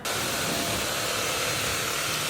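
A cheap cordless vacuum cleaner runs steadily with a loud, even, high-pitched whirring hiss from start to finish, close by with no other sounds.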